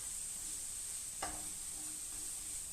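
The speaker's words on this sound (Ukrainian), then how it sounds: "Поки воно смажиться" Constant sizzling of a stuffed pepper frying in a pan, with a single metallic clink of a utensil partway through.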